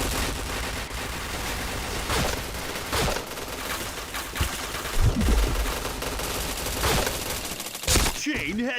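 Rapid bursts of video game gunfire crackle almost nonstop, with frequent sharp shots and a short pause near the end, heard alone without talk.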